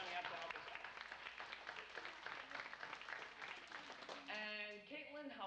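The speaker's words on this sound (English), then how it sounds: "let's give her a big round of applause for coming up to help us out." An audience at a family magic show gives a short round of applause, a dense wash of clapping that fades as a voice begins speaking.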